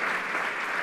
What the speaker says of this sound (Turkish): Ona da bir alkış